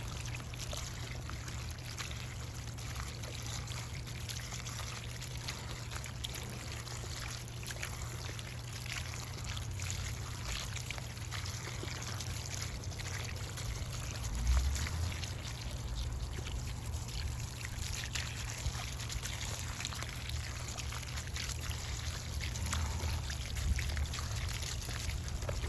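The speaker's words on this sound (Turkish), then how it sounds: "temizlediğim biberleri bol suda beklettim ve teker teker yıkıyorum." Peppers being washed one at a time in a large basin of water, with continuous splashing, pouring and trickling close by throughout, no talking.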